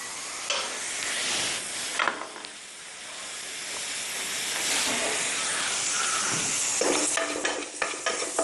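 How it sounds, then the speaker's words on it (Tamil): Horse gram dry-roasting in a pan produces a dense, continuous hiss and rattle of stirred seeds. It is loud and close, with a few scraping strokes near the end. "நம்ம இந்த கொள்ளு வறுத்துக்கலாம்"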